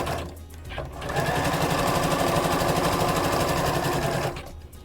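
A sewing machine stitches down the side of a lined patch pocket, a steady fast rattling run of about three seconds after a brief start, loud and close with no talk over it.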